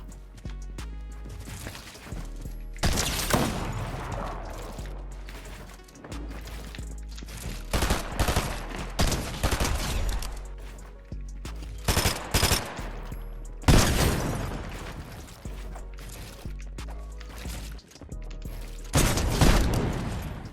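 Rapid bursts of gunfire in a first-person shooter game ring out in sharp, loud volleys, with clusters of shots separated by brief pauses and faint mechanical clicks between them.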